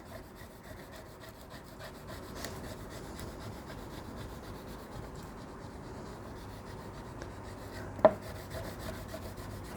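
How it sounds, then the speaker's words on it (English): Steady soft rubbing of transfer tape being pressed onto cut vinyl lettering for a St Patrick's Day craft, a continuous close, quiet friction with one brief sharp tick near the end, no talking. "I'm only kind of rubbing on the words."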